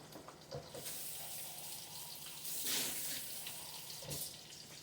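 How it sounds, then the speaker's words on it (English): Tap water runs steadily into a pan of salmon and mushroom gravy, a close, continuous splashing stream with a brief louder gush midway, no voices over it. "I'm going to add a drop of water."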